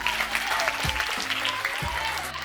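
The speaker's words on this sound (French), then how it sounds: "sous vos applaudissements" Steady applause from an audience at a school ceremony honouring the memory of those who have died, a dense, even wash of clapping that holds at a constant level throughout.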